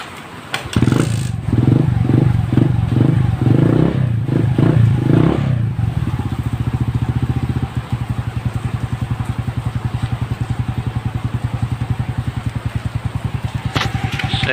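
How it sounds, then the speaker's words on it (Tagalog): A Suzuki Smash 115 motorcycle engine idles after a tune-up, starting with a few rough revs and then settling into a steady, close, even putter that runs on alone. "napakatahimik kayo ng makina ko. So yan, pakinggan nyo na lang siya."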